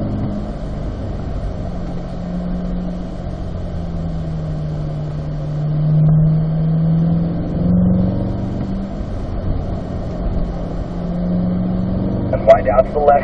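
A Chevrolet Corvette C8 on a driving-school track pulls up through the gears, a steady, loud engine drone rising and settling, heard from inside the car.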